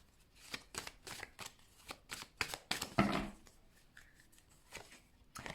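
Tarot cards are handled and shuffled close by in a run of quick papery riffles and soft flicks, with uneven pauses between bursts and no talking over them.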